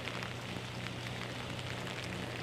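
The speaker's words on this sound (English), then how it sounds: "it's incredibly windy and it's raining so hard" Heavy typhoon rain and wind as Typhoon Soulik passes Jeju, a dense, unbroken hiss of downpour with a low steady rumble beneath, no voices.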